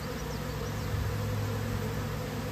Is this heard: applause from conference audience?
no